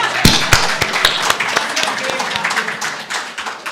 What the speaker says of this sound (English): Can we give a round of applause for Student Affairs as they exit the House?